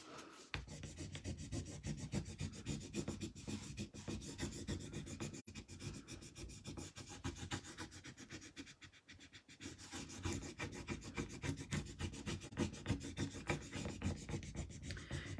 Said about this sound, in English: You just have to really rub.